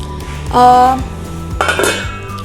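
Metal cookware from a kitchen set (soup pot, frying pan, large wok and lid) clanks and rings as it is handled, with a few sharp metallic clinks over a steady background bed.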